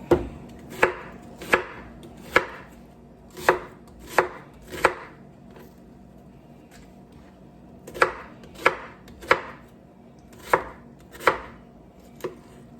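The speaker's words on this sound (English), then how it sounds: "This onion chopped up." Knife chopping an onion on a board for leftover-vegetable soup: sharp, close, evenly spaced cuts arriving in two bursts separated by a short pause, with no voices.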